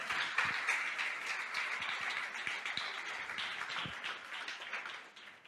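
Church congregation applauding the name of the Lord during a Portuguese-language sermon, a dense steady wash of many hands clapping at moderate volume, fading slightly toward the end.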